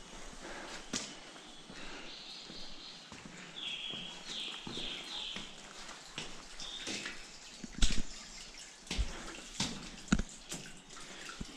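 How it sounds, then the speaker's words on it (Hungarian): Water trickles and drips through a narrow cave passage in the Sebes-Körös gorge of the Királyerdő mountains, a soft continuous babble with scattered sharper splashes and knocks, close by and echoing slightly. "Víz is csordogál itt rendesen."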